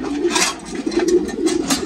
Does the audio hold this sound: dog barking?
no